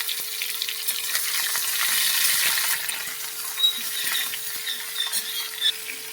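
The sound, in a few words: frying runner beans with mustard seeds and dried chilli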